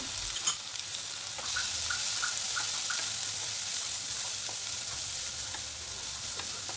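Onion, chili and carrot sauté in a pan with a steady, quiet sizzle and faint, occasional stirring ticks, with no talking over it.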